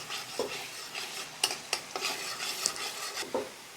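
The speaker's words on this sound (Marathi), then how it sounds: "त्याला आहे ना फ्राय करून घेऊ थोडंसं." Ginger garlic paste fries in a pot for chicken dum biryani. A spoon stirs it with scraping and clinks, and a soft sizzle runs underneath the irregular knocks, close up and with no talking.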